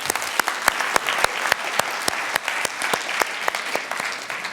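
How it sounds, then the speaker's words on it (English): A live audience at a business presentation gives a big round of applause, a dense steady patter of clapping hands with sharp individual claps standing out, sustained throughout without any talk over it. "Let's give them a big round of applause for that."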